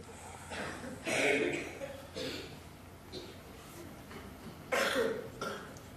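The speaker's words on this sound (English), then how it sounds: "One person coughs and it seems everybody gets a coughing fit" Audience members in a hushed snooker auditorium cough in scattered bursts, several separate coughs and throat sounds coming from different spots, fairly faint and reverberant against a quiet room.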